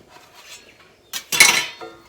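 A metal spatula scrapes and clatters against a pan while working under stovetop drop biscuits, a faint rustle first, then a sudden loud scraping burst that fades out.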